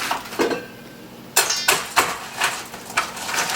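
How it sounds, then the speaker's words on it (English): A meat grinder being set up over a bowl of ice for cherry duck pâté, giving several sharp metallic clanks and knocks at uneven intervals, close by, with no talk. "So we'll set up our grinder here"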